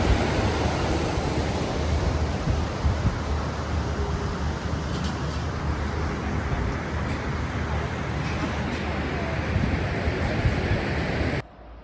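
Glacier meltwater and spring water pour into a lake at night near Skardu, a steady, loud broadband rushing roar that holds unbroken for about twelve seconds before cutting off abruptly.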